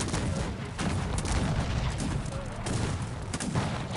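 Cannons and musket volleys rumble continuously in a Cossacks 3 battle during the Austrian campaign to relieve Turin, a dense, loud barrage with overlapping booms.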